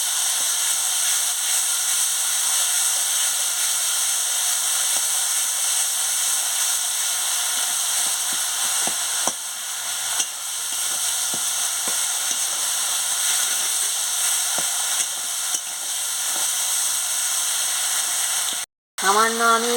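Ground spices and salt sizzle steadily in hot oil in a pan while being sautéed for a Bengali chachchari, a continuous close hiss broken by faint scrapes of stirring, cut off briefly near the end.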